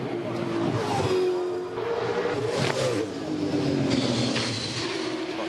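A 2013 V8 Supercar race car screams along the Sydney street circuit during the top ten shootout, engine note rising and falling through gear changes as it passes, with commentary talk over it.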